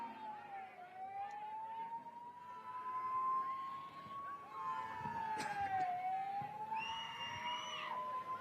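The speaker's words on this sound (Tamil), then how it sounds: "ஆம்புலன்ஸ் வருது வழி விடுங்கப்பா" An ambulance siren wails with a rising and falling tone as it passes through the crowd at a Tamil Nadu political rally. It sounds steady and fairly loud, with crowd noise and voices underneath.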